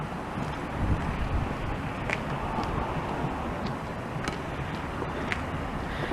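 Steady wind noise buffets the microphone outdoors, a continuous rumbling roar with faint distant traffic in the background.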